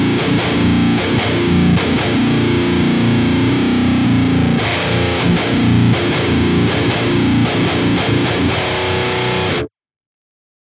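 Distorted electric guitar played through a Quad Cortex pitch shifter set up a half step, strummed chords and riffs with effect coloring, loud and steady, then cutting off abruptly near the end.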